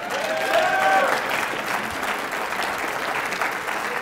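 Audience applause after a talk on leadership, a dense wash of clapping that is loudest in the first second, then eases and holds steady with no voices over it.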